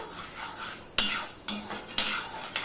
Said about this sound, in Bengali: মুগ ডালটাকে নামিয়ে নিয়েও কিন্তু এভাবে নাড়তে হবে, যেহেতু গরম কড়াই